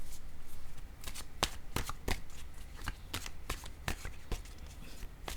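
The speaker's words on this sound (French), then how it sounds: "je vais piger une carte maintenant de Un message de l'univers" Oracle cards from a deck called Un message de l'univers are shuffled in a steady run of crisp, riffling flicks and snaps, close and fairly quiet, with no voices.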